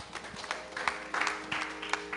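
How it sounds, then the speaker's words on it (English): A small audience at a Carnatic music summer festival claps for a young performer being introduced, a light, scattered round of applause heard from a slight distance. "One round of applause for Sanjit Narayanan."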